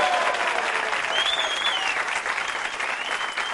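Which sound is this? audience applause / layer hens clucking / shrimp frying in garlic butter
audience applause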